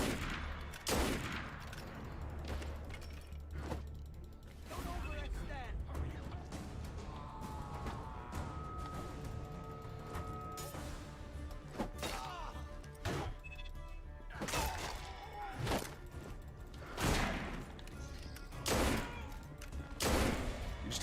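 Rapid gunfire bursts and heavy shots ring out in the video game Assassin's Creed Unity, repeated volleys and impacts clustered across the scene with a loud, busy rhythm and little speech.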